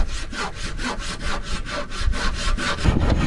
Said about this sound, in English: The rhythmic sawing sound echoes across the silent water.